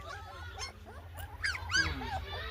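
Young puppies whimper and yip in short, high, wavering cries, several overlapping calls close by over steady background hum, with faint human voices nearby.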